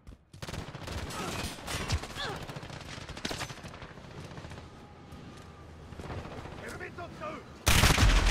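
Sharp gunshots and short automatic bursts pop repeatedly in Call of Duty: Modern Warfare, over a low background, ending with a loud burst of noise.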